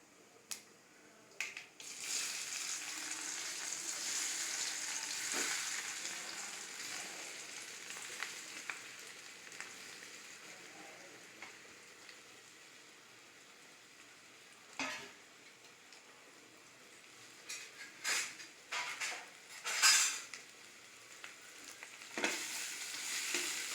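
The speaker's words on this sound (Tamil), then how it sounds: "நல்லா அந்த எண்ணெயிலேயே நல்லா வறுத்து எடுத்துக்கலாம்" Mashed potato fries in oil with a soft, steady sizzle. Scattered clinks and scrapes of stirring grow more frequent toward the end, and the whole sound stays fairly quiet.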